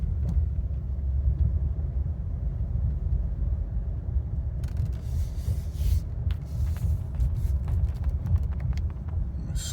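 A 2023 Kia Sportage pulls away from a gas station, heard from inside as a steady low engine and road rumble, with faint clicks and knocks joining partway through; no talking.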